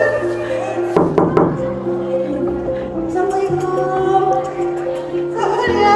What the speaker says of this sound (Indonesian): Ketukan keras terdengar di pintu.